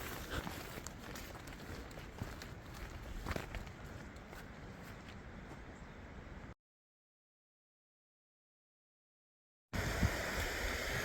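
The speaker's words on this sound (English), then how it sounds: "Turns out there's water just flowing over it." On a Continental Divide Trail hike, water runs over a broad, solid slab of rock in a steady rushing wash with scuffing steps through it. It cuts to silence for a few seconds and then comes back just as loud.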